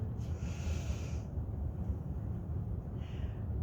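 A long, airy inhale during a yoga flow into warrior one, soft and close, rising and fading, with a second shorter breath near the end.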